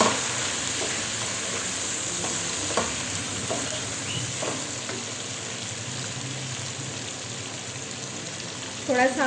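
Beef frying in oil with golden onions for yakhni pulao, a steady close sizzle with occasional stirring clinks and scrapes running the whole time, a brief louder clatter near the end.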